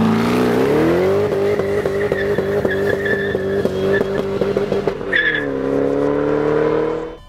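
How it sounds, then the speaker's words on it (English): A Ford Shelby GT500 with a Borla exhaust revs hard and loud, rising and holding a sustained roar with a rhythmic pulse, dipping briefly before climbing again, with no talk over it. "Put the Borla exhaust on."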